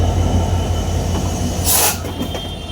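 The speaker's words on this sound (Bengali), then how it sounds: "সেটা কিন্তু এই মুহূর্তে রাজবাড়ী রেল স্টেশনের 1 নম্বর প্ল্যাটফর্ম থেকে ছেড়ে যাচ্ছে" The Madhumati Express train rumbles and rattles along the rails as it departs platform 1 of Rajbari railway station, with a brief high metallic squeal of wheels partway through.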